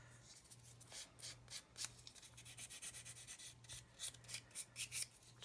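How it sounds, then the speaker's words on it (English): Steady, rhythmic rasping of sanding on a small plastic scale-model part, short strokes repeating quickly, fairly close and quiet with no talking. "I'm not sanding it all the way, I'm just literally taking the top off."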